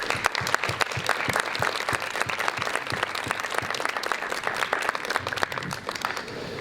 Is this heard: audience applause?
yes